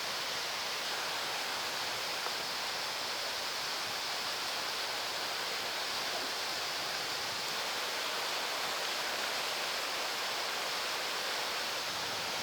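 A brook runs along an off-trail stretch through multicoloured autumn trees in the mountains, near waterfalls, giving a steady, dense rush of flowing water that stays even and unbroken throughout, with no voices.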